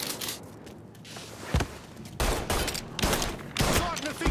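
Gunfire in the video game Mafia III: several loud, close bursts of shots in quick succession with brief pauses between volleys, over game ambience.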